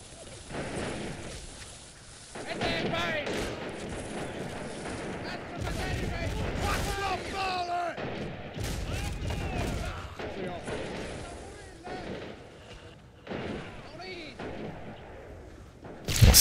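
Sniper rifle and other gunfire in a World War II strategy game match: sharp shots and booming artillery blasts among battle noise, fairly loud, with bursts of combat sound throughout.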